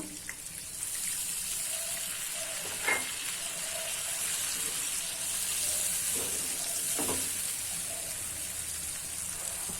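Buttermilk poured into a pan of frying stuffed gunda curry gives a steady, close hiss and sizzle that runs throughout, with a few soft stirring clinks and bubbles over the top.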